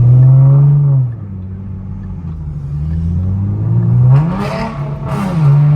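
A V6 Ford Mustang pulls away hard from a traffic light, the engine revving loud and close as it climbs through gears, with rising whine and a brief wheelspin scrabble as the rear tires break loose.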